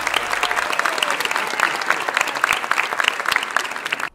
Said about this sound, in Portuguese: Assim que chegou, todos a aplaudiram de pé.